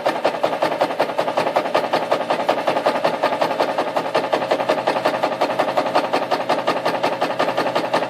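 A sewing machine stitches a diagonal line, running continuously with a fast, even mechanical chatter heard up close with no speech.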